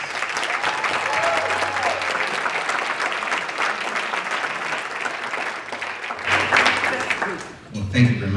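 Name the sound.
applause for Dr. Solis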